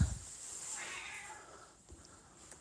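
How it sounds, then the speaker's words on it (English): A cat meows indoors in a home, a single faint cry early on followed by softer sounds, with low background noise and no talking. "There's cats in the house, Lola?"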